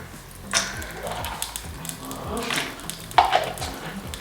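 Cashews frying in hot ghee in a home kitchen give a soft, steady sizzle, broken by a few scrapes and clinks of the spoon against the pan.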